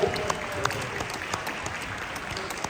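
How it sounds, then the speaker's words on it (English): Sustained applause from a wedding reception crowd, dense clapping at steady volume, with a few voices and cheers mixed in. "a round of applause one more time for our groomsmen"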